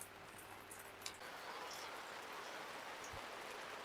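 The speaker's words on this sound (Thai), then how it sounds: "ฝนตกแหละทุกคน" Light rain falling outdoors in misty farm country at Wang Nam Khiao, a soft, faint steady patter with no one speaking.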